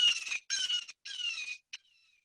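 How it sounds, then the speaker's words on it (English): A blue jay calls in a bird recording, three harsh, raspy screeches in a row followed by a short clipped note, loud and close against a silent background. "Classic example would be our jay."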